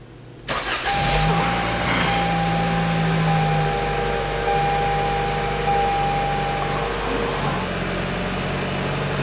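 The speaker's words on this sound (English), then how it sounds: "put the key in the ignition," A 2021 Toyota Camry SE all-wheel drive starts with a key-turn crank, catching quickly, then settles into a steady, smooth mid-pitched idle that continues throughout without any talk.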